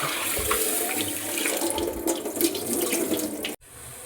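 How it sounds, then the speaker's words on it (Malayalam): Rice being washed in several changes of water splashes and swirls in a vessel under a running tap, a busy wet churning that stops abruptly at the end. "മൂന്നാല് വെള്ളത്തിൽ അരി നമുക്ക് നല്ലതുപോലെ കഴുകും"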